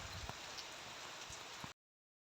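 Steady broadband hiss of the season's first rain falling after a long dry spell, with scattered drop taps, quiet and continuous until it cuts off abruptly.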